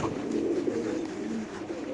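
Racing pigeons of a club breed coo softly in a loft, a continuous low murmuring with no speech.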